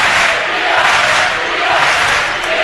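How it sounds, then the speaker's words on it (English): A basketball crowd roars for the Lancers during a game, a dense, steady wall of cheering and shouting that holds loud throughout with no pause. "the Lancers crowd getting into it now"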